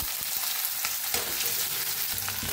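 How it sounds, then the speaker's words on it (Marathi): Cumin seeds and finely chopped onion fry in hot oil, giving a close, steady sizzle with occasional crackles and stirring scrapes throughout, with no voices. "तेल चांगलं गरम झाले, त्याच्यात एक अर्धा चमचा जिरं टाकायचं।"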